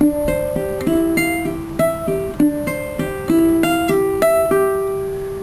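Plucked ukulele strings in a steady, repeating fingerpicked pattern from a song, bass notes alternating with higher notes, clear and close with no voices.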